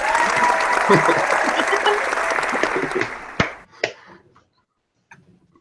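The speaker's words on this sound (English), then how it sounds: "Nice clap in there" Audience at a haunters' convention gathering gives a burst of clapping applause that runs steadily for about three seconds, then breaks into a few final claps before trailing off to near silence.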